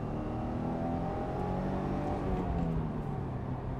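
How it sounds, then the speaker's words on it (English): A Subaru WRX (2015 or later) tuned with a Cobb AccessPort accelerating hard in second gear, a steady turbocharged engine drone rising in pitch, heard from inside the car at moderate level with no talking. "Go to second gear, rev hang, very quick"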